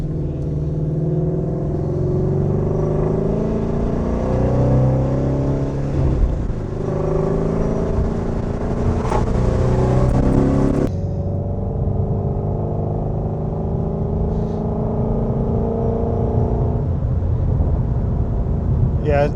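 Ford Shelby GT350 with the 5.2 Voodoo V8 on its stock exhaust, a loud throaty rumble with a rising rev, then an abrupt lift-off into a lower, steadier burble.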